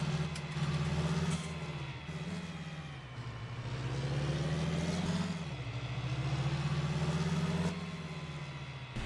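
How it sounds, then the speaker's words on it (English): A tractor engine in Farming Simulator 19 drones steadily at a low, even pitch, rising and falling gently in revs, alone and without talk. "it's a nice tractor. It is. It's got a bit of power,"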